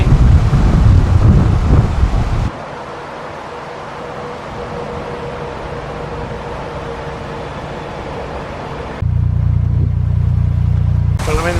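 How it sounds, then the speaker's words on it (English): Strong wind buffets the microphone in loud gusts on a narrowboat at a canal lock, easing to a steadier rumble in the middle before surging again. "Very windy again."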